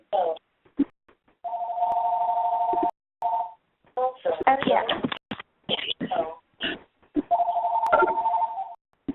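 A home telephone rings in sustained electronic bursts, one near the start and another near the end, with people talking between and over the rings.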